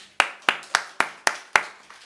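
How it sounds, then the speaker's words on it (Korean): Six sharp hand claps in a steady, even rhythm, close and loud, with no other sound between them, during a church sermon. "박수 한번 합시다."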